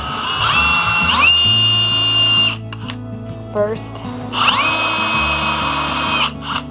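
A power drill drilling wood for a chick brooder box whirs in two long bursts, its pitch rising as it spins up, with a person talking briefly nearby.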